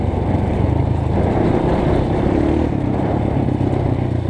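A dirt motorcycle climbs a dusty dry-season trail, its engine droning steadily and close with rattling clatter, no voices.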